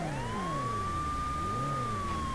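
Wailing police siren from the PS1 game World's Scariest Police Chases, a continuous rising and falling electronic tone over a steady engine and road rumble, loud and unbroken throughout.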